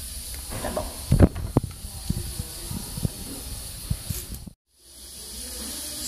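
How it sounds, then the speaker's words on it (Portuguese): Free-range chicken fries on a wood-burning stove with a constant sizzling hiss. A few clinks and clatters of cookware sound near the start, and the sound briefly cuts out near the end. "Escuta o chiado."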